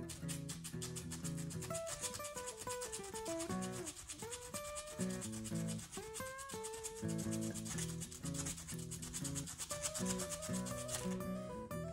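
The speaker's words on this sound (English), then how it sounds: "Just sand it back and forth." Ignition points on a Kohler K241S air compressor engine are sanded back and forth, producing a continuous close rubbing scrape at a fairly steady level.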